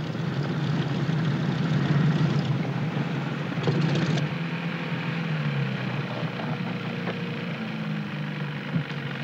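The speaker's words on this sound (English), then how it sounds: "Landing a fully loaded PBY is more a test of seamanship than airmanship." A fully loaded PBY flying boat comes down on water: a loud, steady propeller-engine drone fills the scene, with a rushing wash and shifting engine tone as it settles, no voices.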